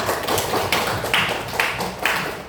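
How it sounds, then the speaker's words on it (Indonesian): A class claps hands together in a steady, close, moderately loud burst of repeated slaps, with no talk over it. "tepuk tangan untuk kita semua"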